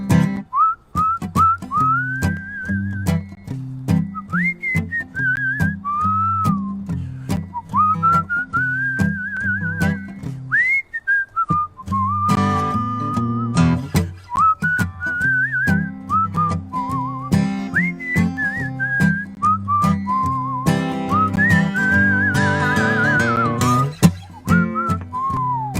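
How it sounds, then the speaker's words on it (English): A man whistles a full song melody solo, clear and close, over a steady strumming accompaniment, during a fireside singalong about the Wanaaring Road in outback Australia. "That is my first full whistle solo."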